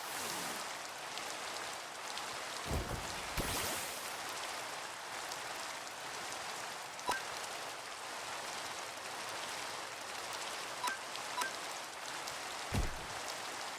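Rain from the Rain Dance move in the monster-battling game ATMons, a continuous soft hiss of falling rain broken by a few sharp clicks and thuds.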